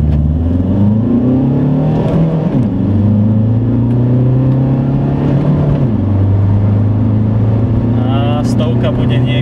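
A Seat Leon 1M car accelerating hard during an acceleration test, engine note climbing through several rising sweeps with gear-change dips, loud and close, with a voice speaking over it.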